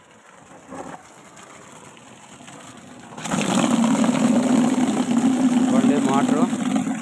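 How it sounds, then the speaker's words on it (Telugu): A 1 HP water pump motor in a garden plot kicks on partway through, rising from quiet outdoor background to a steady, loud, droning hum; a voice is heard briefly near the end. "మోటరు ఇది 1 HP మోటర్ అండి."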